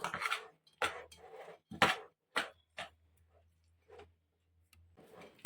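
A utensil scrapes and clinks against a bowl in short, irregular strokes while mixing a cheese mixture, with quiet pauses between them.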